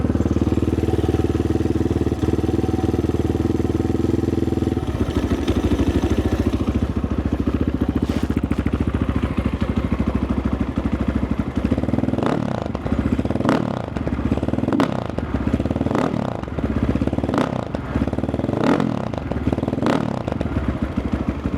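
Geon GNS 300 motard motorcycle from 2024 with its engine running steadily close by, first on choke and then at a smoother idle broken by a string of short rhythmic throttle blips toward the end.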